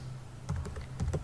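A computer keyboard clicks through a quick burst of several keystrokes while a Linux hostname command is entered, close and crisp over a low steady hum.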